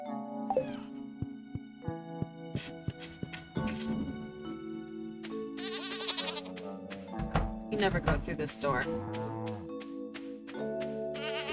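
A goat bleats repeatedly in a farming simulator video game, loud cries mixed with game music and thuds while a person talks.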